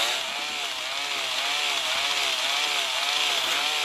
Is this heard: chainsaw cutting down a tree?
yes